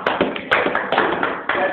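A person claps hands, a series of sharp, close claps at an uneven pace, roughly seven or eight in under two seconds, with voices in the background.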